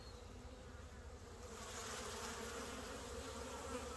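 Honey bees buzzing during an inspection of a hive from a high swarm catch, a faint, continuous dense drone that swells slightly partway through, with no talking.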